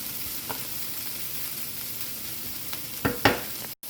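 Chicken and vegetables sizzle steadily on a Flame Thrower Grill, a constant frying hiss with a few sharp crackles and stirring clatters near the end.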